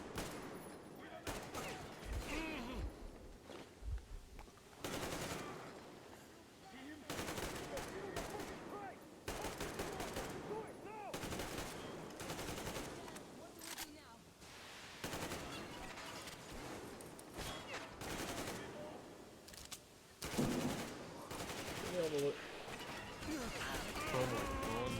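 Repeated heavy gunfire in the video game Metro Exodus, loud bursts and rapid volleys recurring throughout with brief pauses and crashing impacts, close and dense.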